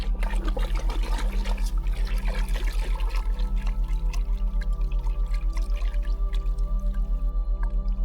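Water swirled by stirring into a vortex for a biodynamic preparation, a continuous close sloshing and trickling with dripping, over a steady low electrical hum.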